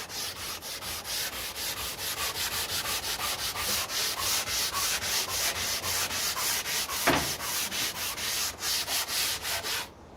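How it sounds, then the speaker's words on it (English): Sanding a wooden surface smooth by hand before applying walnut oil stain: a steady run of rhythmic back-and-forth rasping strokes, about three per second, close up, with no voices. "this will smooth out the wooden surface to give an even feel to it so that the walnut stain will adhere"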